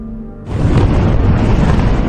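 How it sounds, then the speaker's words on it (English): A sudden, deafening explosion at an aluminium factory flooded by a river that burst its banks bursts in after a low hum and rolls on as a dense, rumbling roar. "A deafening explosion at this aluminium factory after a nearby river burst its banks."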